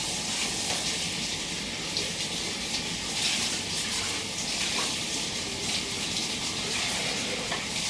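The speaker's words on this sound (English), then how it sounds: "let me rinse this one off" Tap water runs steadily over a NutriBullet blender cup being rinsed in a kitchen sink, a constant bright hiss and splash with no pauses.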